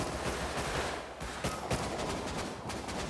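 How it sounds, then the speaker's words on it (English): Rapid AK rifle gunfire crackles in the Rust survival game, bursts of automatic shots blending into a dense rattling fusillade with a few sharper nearer cracks standing out over constant background noise. "I knew I heard an AK"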